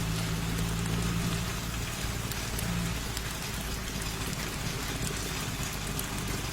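Heavy rain pours down steadily, a dense, continuous hiss of drops hitting surfaces that stays loud and unbroken throughout, with a faint low hum beneath and no voices.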